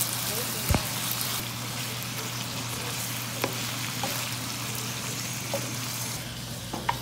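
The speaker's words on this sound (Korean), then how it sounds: "버터도 조금 넣어 구워주었습니다" Meat frying with butter in a pan, a constant crackling sizzle with a few sharp pops and clicks of utensils, close and steady, with occasional soft voice.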